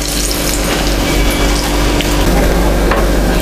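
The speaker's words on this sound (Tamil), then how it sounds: "நான் வந்து இப்போ இதை ஆயிலில் தான் போட போகிறேன்" Banana flower kola balls fry in hot oil, giving a steady, loud, close sizzle that stays even and unbroken with no talking.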